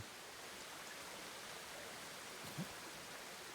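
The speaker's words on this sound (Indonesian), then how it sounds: "Ini air terjun apa nih?" A waterfall by hot springs in the video game Ghost of Tsushima, a steady broadband rushing roar of falling water that holds constant throughout, with one faint brief thud partway through.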